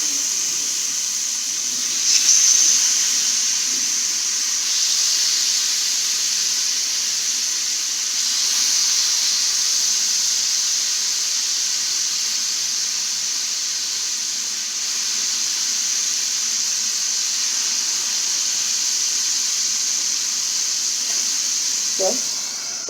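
Mutton chops sizzling steadily on a hot oiled tawa, a continuous bright hissing fry with a slight swell as pieces are laid down and soft occasional clinks.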